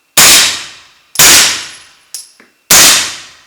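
Four loud, close gunshots come from a CZ Scorpion Micro with an integral suppressor firing standard 115 grain ammunition. Each is a sharp crack with a short decaying tail, spaced about a second apart, with a smaller click between the last two.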